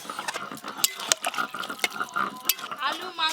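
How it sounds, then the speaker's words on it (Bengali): Water is poured into a pot of mutton and potato curry that has been thoroughly sautéed, a wet splashing and trickling mixed with pan clatter, partly under nearby voices. "এবার জল দিয়ে দেবো"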